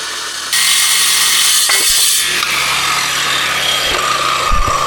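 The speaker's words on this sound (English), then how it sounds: "I love this saw. It's like a hot knife through butter. Look at that, half-inch steel like it's nothing." A power saw cuts through half-inch steel scraps with a loud, steady, gritty rasp that holds for several seconds. Nobody speaks.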